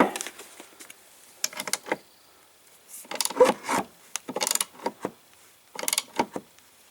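Blade fan hub being tightened on a Black & Decker electric mower, with repeated close rubbing, scraping and ratcheting strokes in short irregular bursts separated by brief pauses.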